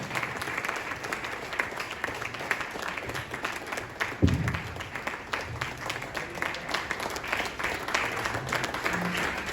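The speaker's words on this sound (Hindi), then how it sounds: "जोरदार ताली के साथ होनी चाहिए।" An audience at a resort celebration for loyalty achievers in Rajgir claps steadily for nearly ten seconds. The dense applause swells briefly with a louder burst midway.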